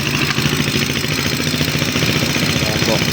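A motorcycle with a broken electric starter, kick-started without a key, its engine running in a steady loud mid-pitched chug throughout, close by, with someone talking over it.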